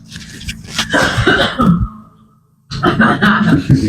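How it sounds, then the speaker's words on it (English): A person coughs several times up close, a rough burst of coughing, then a pause and another round of coughs. "I'm going to cough"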